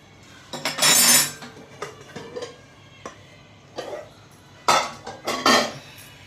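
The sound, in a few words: breaking a block of jaggery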